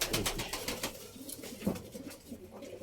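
Pigeons in a loft of breeding birds give low, soft coos with some rustling and wing movement, fairly close and continuous throughout.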